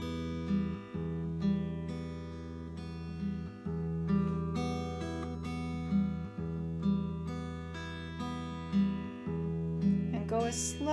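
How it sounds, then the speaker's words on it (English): An acoustic guitar plays a fingerpicked pattern at a moderate pace, bass notes alternating with plucked higher strings in a steady repeating cycle, clear and close. "So a little faster it would look and sound like this."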